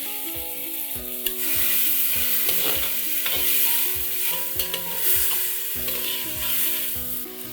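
Chopped tomatoes sautéing with garlic and ginger paste in oil for a mutton masala, a loud continuous close sizzle with stirring strokes, while music plays underneath.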